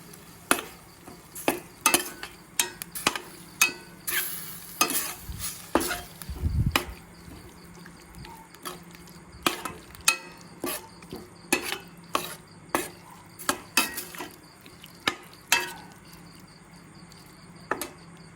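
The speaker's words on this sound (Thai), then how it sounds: "แม่ก็ใส่หมูสามชั้น ลงไปผัดกับกะทินะคะ" Pork belly stirred and fried in coconut milk in a pan, with steady scraping and clinking strokes of a utensil against the pan and a faint sizzle underneath, close and fairly quiet with no speech.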